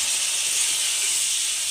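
Water poured into cumin spice paste frying in a pan, a bright continuous hiss and sizzle, loud and close, steady throughout with no talking.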